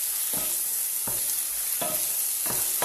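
Food browns in a frying pan with a steady, close sizzle, broken by four evenly spaced scraping stirs across the pan.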